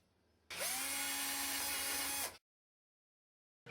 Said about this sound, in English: place the saddles ready for drilling them out